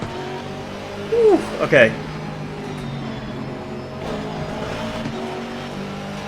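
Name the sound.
race cars in Assetto Corsa Competizione video game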